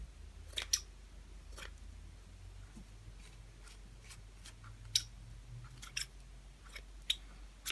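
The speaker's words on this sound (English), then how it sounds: "I just kind of trimmed some of these down to make a smaller little flower." Scissors snip artificial flower stems for Dollar Tree fall pumpkin decor, a series of quiet, crisp clicks and cuts spaced irregularly over a low background hum, close up with no talking.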